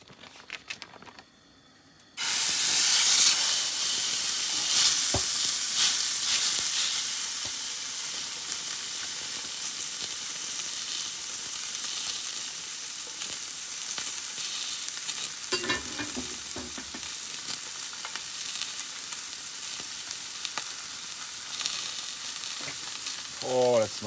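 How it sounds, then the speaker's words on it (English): A deer roast searing in a cast iron pan: after a brief quiet start, a loud sizzle erupts and holds steady and close for the rest, with occasional crackles and a faint scrape near the end. "We're going to sear it in a cast iron pan first."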